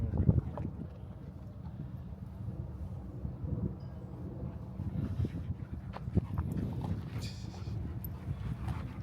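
Dogs play together at a dog park, with scattered soft yips, scuffles and paw thuds under steady outdoor background noise, fairly faint and spread out.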